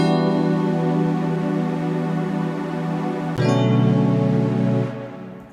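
A sustained synth pad holds a warm chord, then shifts to a new chord partway through before fading, loud and alone without any voices.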